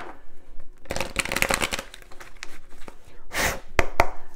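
Deck of tarot cards being shuffled by hand, several bursts of crisp riffling and flicking close up, separated by short pauses, with no speech.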